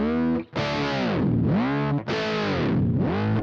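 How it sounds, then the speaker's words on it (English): Guitar dive bomb from a Boss ME-90 pitch shifter: two long, loud distorted swoops, each plunging far down in pitch and rising back, separated by a brief cut, with no talking. "So you really can get a dive bomb sound"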